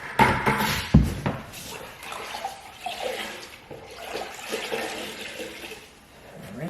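A sponge being rinsed in a bucket of water while a house is readied for move-in: a loud splash and slosh at the start, then steady swishing and trickling water close by.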